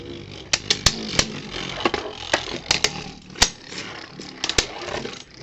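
Beyblade spinning tops battling in a plastic stadium with a bearing drift driver, a steady whirring grind punctuated by repeated sharp metallic clacks as the tops collide, moderately close.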